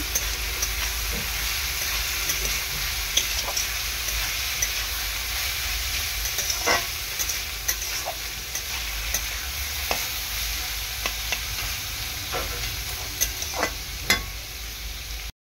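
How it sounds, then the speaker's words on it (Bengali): Fried rice with cashews and raisins being stirred in a pan: steady sizzling hiss throughout, with scattered scraping clinks of the spatula against the pan at irregular intervals, no talking. "এই যে কাজু আর কিশমিশ দিয়ে এবার নাড়াচাড়া করে নেব"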